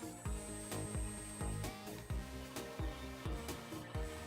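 Hand drill boring through white G10 knife handle scales clamped to wood: rhythmic grinding and creaking strokes repeating about twice per second, close and fairly quiet, with no voices.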